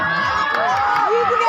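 Spectators at a village cricket match, a women's day semifinal, cheering and shouting in a lively burst of raised voices with whoops and some children's yells, close and loud throughout.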